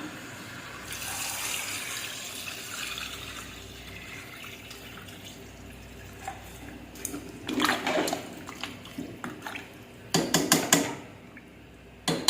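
About one litre of water splashes and pours into a pressure cooker holding potatoes, a running, rushing wash with metallic clanks and scraping near the end, close and fairly loud.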